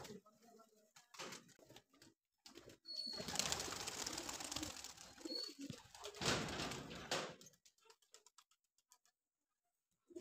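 Soft cooing and clicks from Siraji and Gola pigeons, then a burst of fluttering wings as the birds take off, fading back to quiet scattered sounds.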